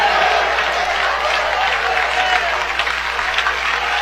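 A church congregation breaks into sustained applause during a sermon, a dense, steady wash of many hands clapping close by for the whole stretch, with faint voices mixed into the crowd noise.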